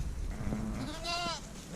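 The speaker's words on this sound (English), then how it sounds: "Little ewe lamb." A newborn ewe lamb gives one soft, wavering bleat, fairly faint and close, amid quiet outdoor background noise.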